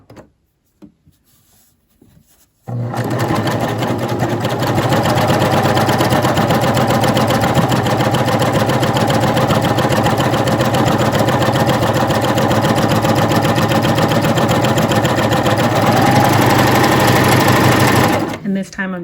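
A coverstitch sewing machine stitches fabric in one long, loud, steady run of rapid mechanical whirring, starting abruptly after a few quiet handling noises and stopping near the end.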